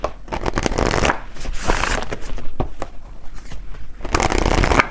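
A deck of tarot cards is shuffled close up, bursts of crisp riffling and rapid flicking that start and stop several times, with no talking.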